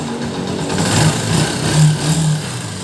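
A Honda TMX 125 motorcycle engine idles close by, a steady low mechanical hum with a faint rhythmic throb that swells slightly a few times over a few seconds, with no talking.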